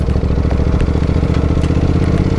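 A Honda NC750X motorcycle climbs an off-road ridge trail, its engine giving a loud, steady, low chugging drone close by, with no voices.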